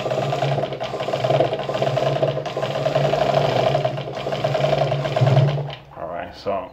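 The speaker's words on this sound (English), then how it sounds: "I already connected the motor and all that to the machine, and I'll do some sewing." A Vigorelli ZZ/A robot sewing machine runs under an attached motor, producing a steady, close mechanical whir and rapid needle clatter for most of the clip before slowing and stopping near the end, with a voice briefly audible.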